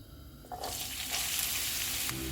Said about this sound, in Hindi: ऑयल गर्म हो गया, इसमें प्याज डालेंगे।